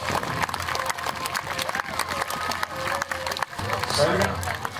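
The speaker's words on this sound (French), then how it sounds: "Allez, on les applaudit." An outdoor crowd at a Gallo-Roman heritage festival in Saint-Romain-en-Gal applauds the performers, with scattered clapping and crowd noise rising over several seconds while people talk through it.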